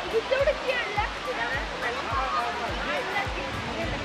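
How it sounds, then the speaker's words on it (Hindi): Steady broadband rush of the Daringbadi waterfall in Odisha, loud and continuous, with several low thumps and a few voices chattering over the falling water. "बाकी वाटरफॉल का साउंड"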